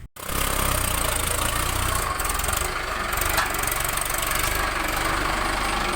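A Mahindra Arjun Ultra 1 555 DI tractor engine idles steadily and loudly close by, a constant low rumble with a slight knocking chug, running alone after a brief start.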